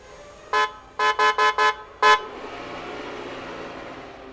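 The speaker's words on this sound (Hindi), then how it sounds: "ई तो गाड़ी रो हॉर्न सुबिलानी" A car horn honks six times, short toots spaced unevenly, fairly close, over a quiet background hum.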